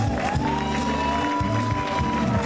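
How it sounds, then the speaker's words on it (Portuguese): Crowd noise with clapping at the closing ceremony of a youth baseball tournament, sustained and fairly loud throughout, with a tonal hum running under it. "Aplausos."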